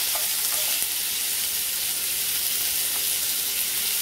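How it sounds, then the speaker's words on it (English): Garlic butter chicken sears in a frying pan, a dense, even sizzle and crackle that holds steady and close throughout with no voices. "the frying pan, and you're going to sear it on one side."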